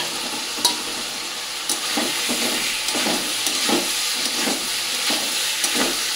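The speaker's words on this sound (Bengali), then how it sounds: "মশলা থেকে তেল ছেড়ে এবার পনিরটাকে দিয়ে দেবো।" Paneer frying in hot spiced oil in a pan, a steady sizzle and hiss with periodic scraping stir strokes every second or so, close and fairly loud, no voices.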